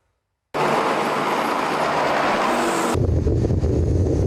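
A heavy, continuous mechanical rumble with clanking and grinding, loud and close, growing deeper and more bass-heavy partway through, as tanks advance at the front line in Ukraine.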